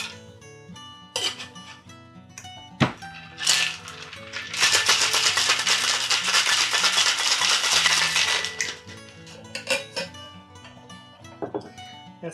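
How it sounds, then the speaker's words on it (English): A cocktail shaker filled with ice is shaken hard in a continuous rapid rattle for about four seconds, with scattered clinks and knocks of glassware before and after. "we're going to give this thing a nice shake"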